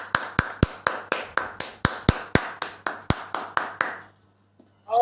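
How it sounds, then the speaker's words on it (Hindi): Single sharp hand claps about a quarter-second apart, roughly fifteen in a row, heard close through an online Zoom meeting, then a pause and a brief voice at the end. "फिजिकल एंड डिजिटल तालियों से अपना सम्मान करें।"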